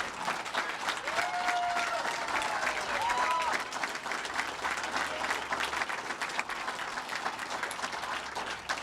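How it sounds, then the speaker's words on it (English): An audience at a bill-signing ceremony gives sustained applause, a continuous mid-level clapping wash with a few voices briefly audible within it. "You can give her a round of applause."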